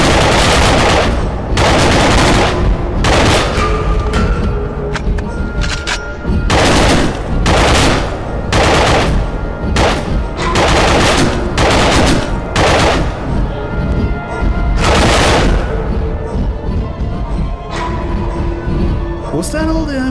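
Sustained rapid gunfire in the video game 35MM, loud bursts of automatic shots repeating in waves across the whole stretch with brief gaps between volleys, close and dominant, with a voice talking underneath.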